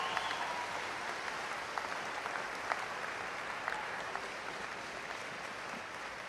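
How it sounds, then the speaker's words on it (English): A town hall audience in Los Angeles applauds with steady, dense clapping that holds at an even level throughout. "Give Ethan a big round of applause"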